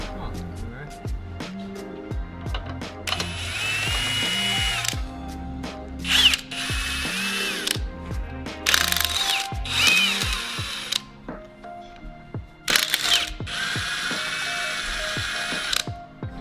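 A hand ratchet turns 17 mm bolts under heavy tension while bracing is fitted to a Subaru WRX, giving repeated bursts of clicking and clattering in a garage alongside tool clinks and small metal knocks.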